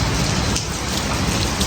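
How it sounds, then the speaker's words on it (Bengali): Steady rain falls outdoors at a scenic viewpoint, a dense, loud, even hiss of drops on surfaces, close and continuous throughout, with no talking. "কিন্তু বৃষ্টি হচ্ছে"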